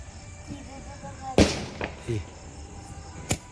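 Diwali firecrackers burst outdoors: one loud, sharp bang near the middle, then a second crisp crack a moment later, with quieter background noise and scattered faint pops between them.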